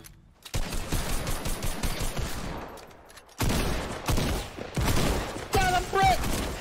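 Rapid bursts of gunfire from a Fortnite Battle Royale match crackle in repeated volleys, loud and close, with a short pause before firing resumes, mixed with game effects and a player talking over it.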